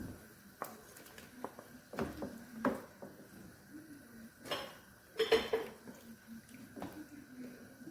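Shrimp being stirred into grits in a pot, with soft scraping and clinks of a utensil against the pot and a few louder knocks near the middle, close and moderately quiet, no talking.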